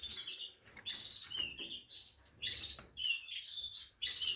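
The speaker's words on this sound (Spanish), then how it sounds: "Pero muy chulos estos cuatro pájaros." Four small pet birds chirp in quick, bright bursts of tweets, close and fairly soft, with short pauses between calls.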